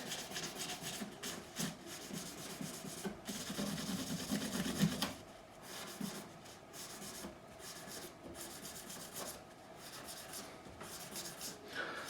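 Rubbing oil onto the fretboard of a Taylor 214-CE electro-acoustic guitar, close scratchy rubbing strokes in an irregular rhythm, louder in the first half, then softer wiping with faint background sounds.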